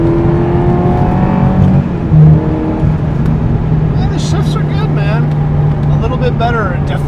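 A 1999 Ferrari 355 Berlinetta F1 engine droning steadily at speed, its tone stepping up through a gear shift, heard from inside the cabin beneath people talking.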